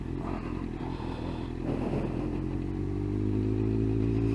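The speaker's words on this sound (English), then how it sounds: "so we don't want to rev the engine too much" Car engine idling and rolling slowly into a car park, a steady low rumble that swells slightly louder toward the end, with some light clatter and no voices.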